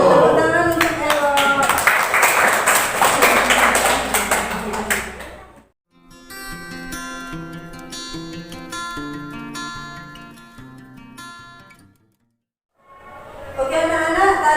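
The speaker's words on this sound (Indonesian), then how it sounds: "Tepuk tangan untuk Elo" Classroom students applauding a classmate during a practice teaching lesson, a dense burst of clapping for about six seconds, then music-like tones, then clapping again near the end.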